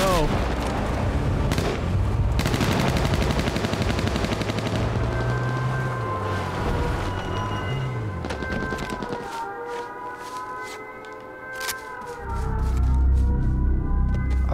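Shotgun blasts in the H1Z1 video game, several loud, sharp shots spaced irregularly through busy, dense game sound with droning tones and other gunfire.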